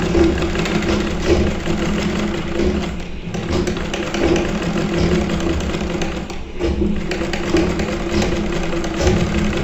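A sewing machine stitching a curved seam in cloth gives a steady mechanical whirring and tapping of the needle, running continuously with brief slowdowns where the fabric is turned.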